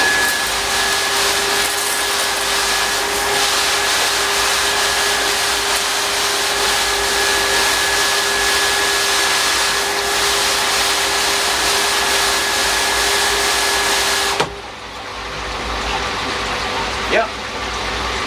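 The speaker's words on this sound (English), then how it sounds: "we'll just give it a run and make sure the belt's back on, so we'll give it a run and make sure everything's okay." Pond rotary drum filter with a belt drive running, a loud steady mechanical hum and whir with a constant tone that cuts off sharply near the end, leaving quieter background and a brief knock.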